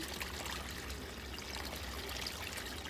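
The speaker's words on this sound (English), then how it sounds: "So with this, I've got my water. I'm gonna dump this in." Water is poured steadily from a container into a planted garden container, a close, continuous splashing trickle lasting a few seconds with no talking.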